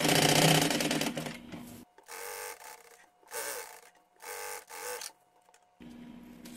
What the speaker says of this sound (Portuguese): a gente só vai costurar bem na beiradinha para segurar esse forro